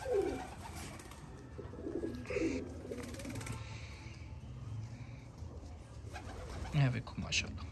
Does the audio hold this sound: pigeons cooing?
yes